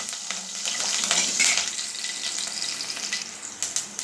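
Green chillies frying in a pan of oil for a Rayalaseema-style carrot dish: a continuous bright sizzle with crackling bursts and a few soft stirring scrapes, close and steady, with no talk.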